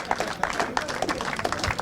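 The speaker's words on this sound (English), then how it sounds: "Please give a huge round of applause for the PF International Team's driver" Scattered clapping from a small crowd greets a kart race driver of the PF International team at a Senior X30 trophy ceremony at Whilton Mill, with voices talking over the sparse, uneven claps.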